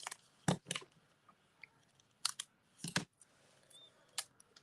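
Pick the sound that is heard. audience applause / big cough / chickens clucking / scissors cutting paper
scissors cutting paper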